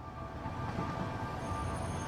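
A train in the factory-building video game Satisfactory rolls past as a steady, low rumbling drone with faint tonal hum and squeal, continuous and fairly quiet throughout, no voices.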